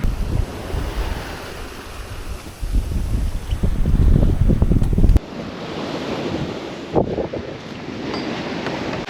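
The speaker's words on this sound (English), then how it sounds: "Sunrise squall." Wind and breaking waves roar around a sailboat crossing the Pacific during a sunrise squall, loud and gusty for the first half, then easing to a steadier rush of water with a brief splash near the end.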